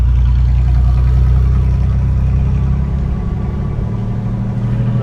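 A Chevrolet Vortec van engine rumbles steadily in gear, a loud, close, low drone with mid-range engine roar that holds throughout with no clear break for a shift.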